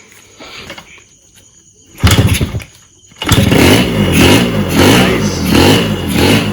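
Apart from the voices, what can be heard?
Yamaha RXZ motorcycle engine starting and revving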